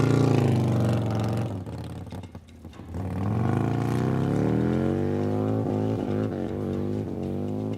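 Harley-Davidson bagger motorcycle engine on a land speed run, a steady loud drone with harmonics that dips briefly then climbs in pitch as the engine revs up, close and continuous without speech.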